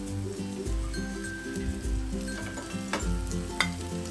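An uttapam cooks on a tava with oil added around its edges, giving a close, loud, steady sizzle broken by a few light clinks of a utensil.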